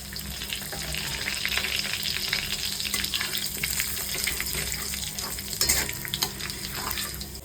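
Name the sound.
cumin, bay leaf and garam masala frying in oil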